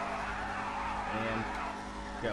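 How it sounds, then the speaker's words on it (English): In GTA 5, a Ruiner 2000 car launches hard with wheel spin, a loud continuous engine roar and tire screech filling the moment while a voice speaks briefly over it. "So we're going to get a launch here."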